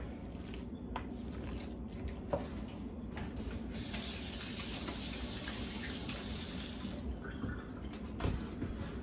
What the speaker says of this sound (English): Wash my hands off a little bit there.